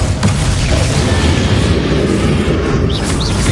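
A Bombarda blast spell from the Hogwarts Legacy video game, a dense, continuous loud boom with heavy low rumble sustained through the whole stretch, no clear separate hits.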